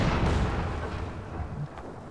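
Rockets firing and landing in the battle game Company of Heroes 2 make a dense rumbling volley of booms and blasts. The barrage is loud at first and eases off over about two seconds.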